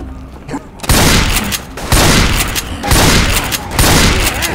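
Rapid, loud gunfire from Left 4 Dead 2 arrives in four heavy bursts about a second apart, each sustained and booming, with a short quieter lull before the first.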